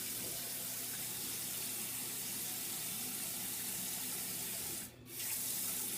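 Water runs steadily from a bathroom tap for rinsing after shaving, a close, even hiss that briefly dips near the end and then continues.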